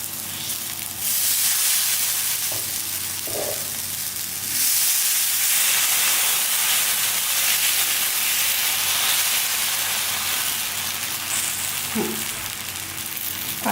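Watermelon rind dosa batter sizzling and hissing loudly on a hot oiled griddle, a steady frying crackle with a few soft clinks, no voices.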